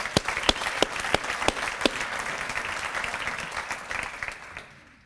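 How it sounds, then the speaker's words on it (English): An audience applauds for newly elected members at a young lawyer award presentation, a dense clapping crowd with sharp individual claps that tapers off near the end. "So let's give them a round of applause."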